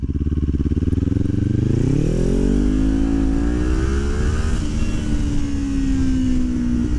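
A Kawasaki Ninja 400 with an Akrapovič exhaust pulls hard in second gear, its engine note rising steadily and loud from close by, then levelling off as the revs climb, with strong wind rush throughout.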